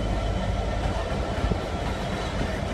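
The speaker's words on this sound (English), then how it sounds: "Here's a locomotive, 66768." At Peterborough station, Class 66 diesel locomotive 66768 rumbles past close by with a loud, steady roar and a faint rhythmic clatter of wheels on rails.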